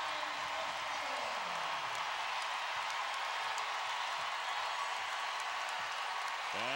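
A big basketball arena crowd in Knoxville at a Tennessee versus Baylor women's game roars in a constant wash of cheering and applause, loud and continuous throughout.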